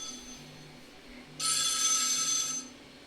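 A telephone rings once, a loud bright electronic burst lasting about a second over a quiet room with faint tones beforehand.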